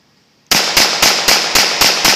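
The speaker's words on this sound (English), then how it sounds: "1911, rapid fire, test one." A 1911 pistol built on a new STI frame fires a rapid string of about seven loud, sharp shots at an even cadence after a brief silence, with no talking.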